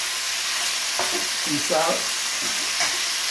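Sautéed beef sizzles in a pan while being stirred, a steady hiss beneath a brief spoken phrase from a nearby man.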